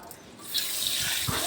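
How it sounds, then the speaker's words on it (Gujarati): Fenugreek seeds are rinsed and their soaking water poured off at a sink for Gujarati gunda pickle, a steady close tap-like splash that swells and continues. "આ જે પલળેલું છે એકદમ કડવાહટવાળું હોય એ પાણી આપણે ગાળી અને પછી એકવાર ધોઈ નાખશું ચોખ્ખા પાણી"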